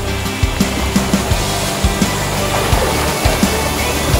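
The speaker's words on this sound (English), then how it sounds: "This is the other little waterfall we have, which is what goes over the edge of the spa, and it goes into the pool." A small waterfall spilling over the edge of a backyard spa into the pool at night, a steady rushing splash of falling water, close and continuous, with faint rhythmic thumps underneath.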